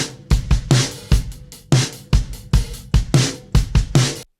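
A recorded drum loop with EQ but no compression: a steady beat of punchy kicks and crisp snare hits repeating in an even rhythm, fairly dry and open, with nothing else playing.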